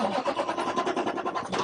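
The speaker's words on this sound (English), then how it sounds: "So I go ahead and start my engine." A truck engine cranks and starts during an in-cab inspection, a rapid pulsing churn that settles into a steady mid-pitched running sound, close and moderately loud.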